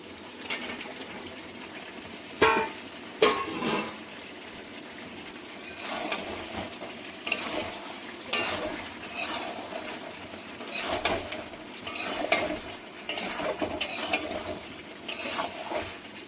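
Potatoes tumble into a pan of browned chicken kosha and are stirred, giving irregular clattering scrapes and sizzling bursts of metal utensil on cookware, moderately close, with no talking.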